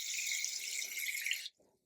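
Water pours steadily into a small bowl inside a spider tub for a Harmonicon oyapoquae tarantula, a bright continuous splashing stream that stops abruptly, followed by a few faint drips.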